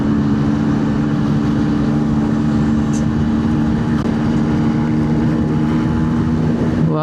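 A Suzuki A100 two-stroke motorcycle, freshly rebuilt, runs along a highway with a steady droning engine note and constant wind and road noise throughout, close and loud.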